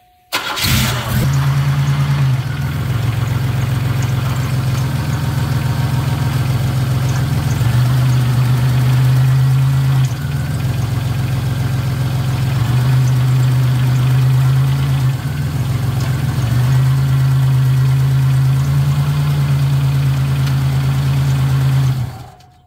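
A car's engine cranks and catches, then settles into a steady, loud idle that runs alone with slight surges in pitch, right after fresh transmission fluid and a new filter and gasket have gone in.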